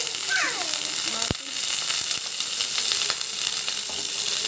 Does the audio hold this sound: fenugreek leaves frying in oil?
yes